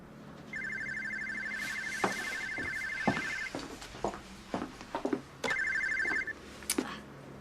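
An indoor telephone rings in two bright, steady bursts, the first long and the second shorter, with clattering knocks and movement filling the gap between them and no voices.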